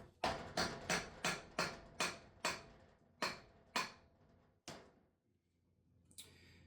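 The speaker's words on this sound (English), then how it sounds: "Now we just tap it loose." A hammer taps a Honda S2000 differential part clamped in a vise, with about ten sharp metallic knocks, first in a quick steady rhythm and then slowing and fading out, close and loud with no talking.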